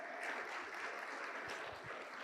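A church congregation applauds together, a broad, even patter of clapping that holds steady at moderate volume with no voices over it.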